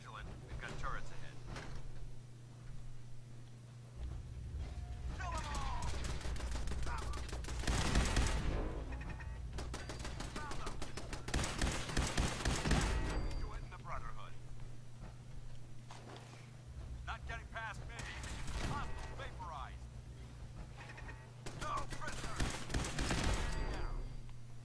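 Automated turrets firing in Fallout 4, bursts of rapid gunfire coming and going between quieter stretches with footsteps, under a steady low hum and occasional talk.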